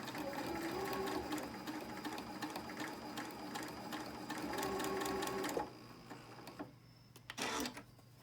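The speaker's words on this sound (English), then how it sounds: "then we go to the sewing machine, and we're going to sew on each line" A sewing machine stitches quilt block fabric in a steady, continuous mechanical whir, pausing briefly before a short final burst of stitching.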